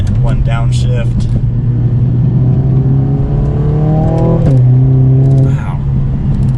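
A 2021 Mercedes-AMG CLA 45 four-cylinder engine heard from inside the car while slowing for a sharp turn near 45 mph: loud, close revs sweep up and down through a downshift with a blip, with brief speech at the start.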